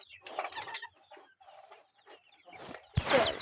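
A hen clucks close by in a series of short, uneven bursts, ending in a louder squawk, with no talking over it.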